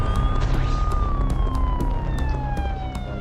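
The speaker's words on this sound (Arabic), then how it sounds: "شرطة الشرطة الشرطة" A police siren wails loudly and close, its pitch sweeping steadily downward over a rumbling background.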